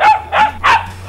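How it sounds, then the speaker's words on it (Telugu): A dog gives three short, loud barks close by, evenly spaced in a quick burst, in a Telugu comedy scene. "కుక్క అరుస్తోంది"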